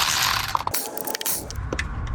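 A ratchet loosens small 10 mm valve cover bolts on a 2.4-liter Honda engine, a close, steady run of clicking and grinding that pauses briefly and then resumes.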